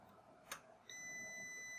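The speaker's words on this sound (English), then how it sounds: "You hear a beep, and the power button will illuminate to blue" A short electronic beep sounds, followed by a steady high-pitched tone that holds over a faint background hum.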